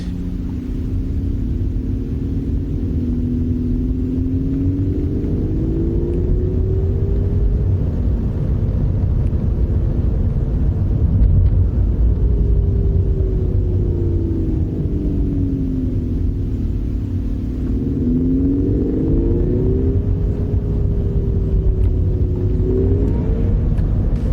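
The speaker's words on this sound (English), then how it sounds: "this e-sound that they put in here, it's horrible. It sounds like a gasoline engine." A synthetic engine-like hum, an electric car's artificial engine sound, drones continuously, rising and falling in pitch like revs, over low road rumble from inside a moving 2020 VW e-Up.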